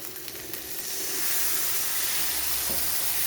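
Spices and water hitting hot oil with fried onions in a pan give a steady, close hiss and sizzle that swells and holds loud, with no voices.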